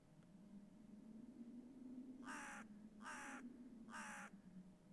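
Crows in a snowy forest in the horror game Tiny Bunny, three harsh caws spaced about a second apart, clear and fairly close over a low steady wind-like hum.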